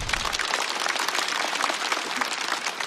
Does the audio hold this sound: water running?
no